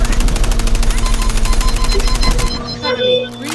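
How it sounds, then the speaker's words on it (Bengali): Rapid automatic gunfire from a Call of Duty match, a loud, steady, unbroken burst of shots lasting about two and a half seconds before it cuts off into quieter game sounds. "লঞ্চারে গুলি মারি"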